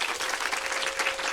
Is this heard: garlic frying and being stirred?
no